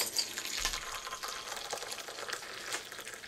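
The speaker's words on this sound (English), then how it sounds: "And then I add the boiling water" Boiling water is poured from a kettle onto loose tea leaves in a pot, a soft continuous hiss and trickle, fairly quiet and close, with no voices.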